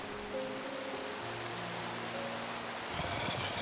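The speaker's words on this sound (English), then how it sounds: "the weather mod that I have that is doing, like, the wind and rain and all that" Steady storm ambience from a Minecraft weather mod, a continuous hiss of rain and wind with low rumbling beneath, holding even throughout and swelling slightly near the end.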